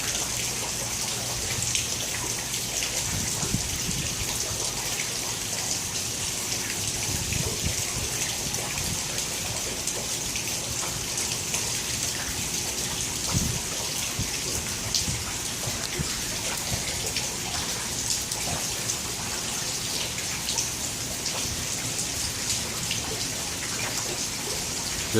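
Steady, dense rain pours down throughout a thunderstorm, a constant close hiss of drops striking surfaces with no voices and no thunder standing out.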